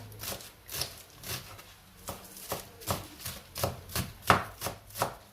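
Onions are chopped on a board with a knife, a steady run of about a dozen crisp, close knocks at an even rhythm, with no talking.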